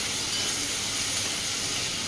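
Ginger paste and turmeric hit a hot pan, producing a steady, loud bright sizzle with a fine spattering hiss that continues without pause.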